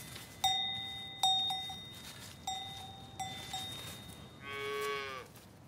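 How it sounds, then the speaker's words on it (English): A calf moos several times at close range, short loud calls in an uneven series ending in a longer, wavering bleat, outdoors on a grassy hillside with no talking. "Actually, it was a calf."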